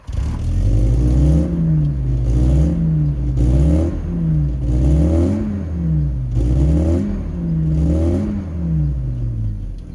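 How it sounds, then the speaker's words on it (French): A supercharged VW Golf 2 GTI G60 engine revs up and down repeatedly, loud and close, with a rhythmic rising and falling whine from the supercharger. "Écoutez-moi le son de ce G60"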